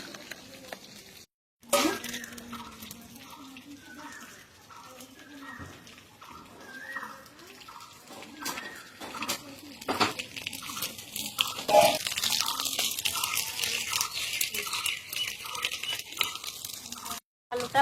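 Cut pumpkin and fish pieces being washed in water, with repeated splashing, sloshing and handling sounds close by, starting after a brief pause and growing busier toward the end.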